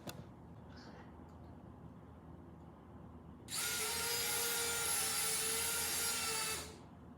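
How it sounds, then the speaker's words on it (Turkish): A toy mini UFO's internal propeller spins up after a quiet start, giving a loud, steady high-pitched whirring buzz for about three seconds before cutting off. "Biraz çok sesli olacak. Çoğu ihtimal çünkü içinde pervane"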